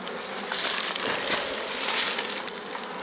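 A dense, steady hum of many honey bees buzzing close by at a hive, a rough, noisy drone that swells slightly and never stops.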